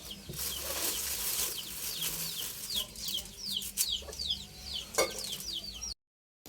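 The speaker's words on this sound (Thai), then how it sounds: "ไก่นี่ลูก" Chickens cluck and call repeatedly in a rural Thai farmyard setting, a steady run of close, fairly loud clucks with brief bursts of activity, ending abruptly in silence.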